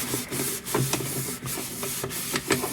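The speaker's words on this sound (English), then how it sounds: "And as you're wiping it off, like I'm doing here, you're buffing it into the surface." A cloth wipes and buffs polish into the surface of a metal miner's lunchbox, making a steady close rubbing swish in repeated back-and-forth strokes.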